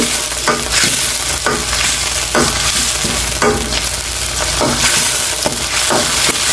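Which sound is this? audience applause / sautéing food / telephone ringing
sautéing food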